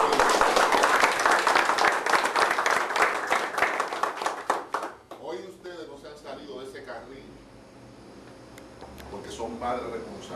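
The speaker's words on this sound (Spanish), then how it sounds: "nosotros debemos tributarle un aplauso" A group of young people gathered in an official's office applauds loudly for about five seconds before the clapping fades out, giving way to someone speaking Spanish over a quiet room.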